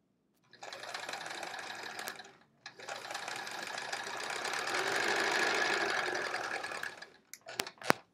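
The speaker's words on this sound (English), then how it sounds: "Busy sewing up my leaders to make the magic quilt." Sewing machine stitching quilt leaders, running steadily in two close, fairly loud bursts with a short pause between, then a few quick clicks and knocks as it stops.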